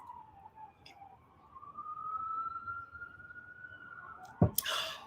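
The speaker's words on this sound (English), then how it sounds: "Cheers to the sirens" A single siren wails steadily in the distance, rising and holding its pitch for several seconds before a sharp clatter cuts in near the end.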